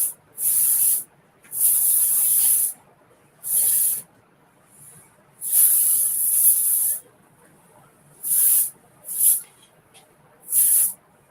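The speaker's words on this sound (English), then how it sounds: "The Gold Rush Dry Heat Protection Spray doesn't provide any hold at all, so I feel comfortable just kind of spraying it the way I just did." Gold Rush Dry Heat Protection Spray misted onto natural hair in a series of seven short, close hissing bursts of uneven length, separated by brief pauses, with no talking.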